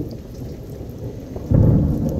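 Thunder from a nearby lightning strike rolls low and loud over steady rain, swelling into a heavier rumble partway through, with no talk.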